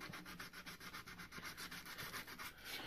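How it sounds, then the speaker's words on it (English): Steady back-and-forth rubbing of 550-grit sandpaper by hand over the horn nocks of a yew longbow, a continuous close scratchy rasp with an even rhythm of quick strokes and no talking. "You want this to be all nice and evenly sanded"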